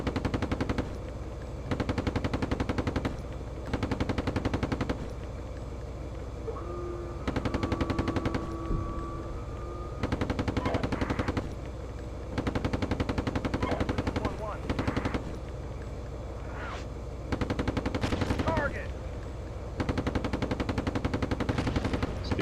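Machine-gun fire in a military video game comes in repeated bursts of a few seconds each, separated by short lulls, loud and close, with a faint whistling tone drifting through the middle.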